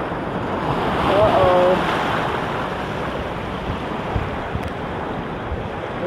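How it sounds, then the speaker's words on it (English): Ocean waves break loudly against shoreline rocks in a continuous, rushing wash, with gusty wind buffeting the microphone and a brief exclaiming voice partway through. "Here comes the ocean waves."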